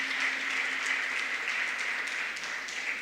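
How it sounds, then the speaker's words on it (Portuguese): Steady applause from an audience in a church, a continuous dense patter of many hands clapping at even loudness for the full three seconds with no talk over it. "Pode aplaudir mesmo a Ele."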